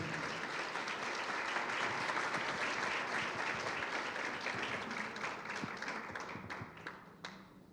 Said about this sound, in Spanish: un aplauso muy sentido, muy cariñoso